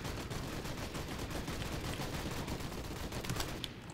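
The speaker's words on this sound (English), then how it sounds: "There's a lot of shooting going on." Rapid, dense gunfire from the video game Special Forces: Team X, a loud continuous barrage of overlapping shots with no pauses that cuts off just before the end.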